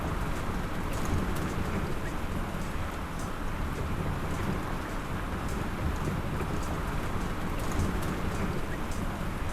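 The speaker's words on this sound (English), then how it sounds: "And it's starting to rain hard." Heavy rain during Hurricane Beryl drums hard and constantly on a car, a dense close roar, while deep thunder rumbles under it and sharp droplet hits spatter near the roof and windshield.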